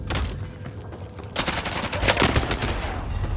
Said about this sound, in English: Enemy is firing at me!